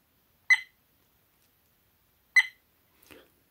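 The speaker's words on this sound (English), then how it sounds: "And the beeping sound, you can turn it on or off" Two short electronic beeps from a dash cam, spaced about two seconds apart, followed by a fainter brief tone, clear against silence.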